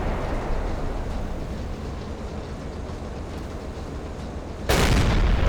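A U-boat deck gun fires in Silent Hunter 3, one heavy, loud boom near the end that cuts through a steady low rumble of engine and sea.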